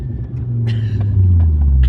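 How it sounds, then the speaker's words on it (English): A Toyota Aristo engine heard from inside the trunk on the highway drones with a deep, steady low rumble that swells louder as it pulls, very close and muffled. "This car sounds good, but it's a totally different thing when your ear is right next to it."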